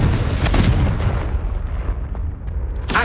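A Confringo blasting spell explodes in Hogwarts Legacy, a heavy booming burst that fills the low end and then decays over a few seconds, with a sharp crackle at the very end.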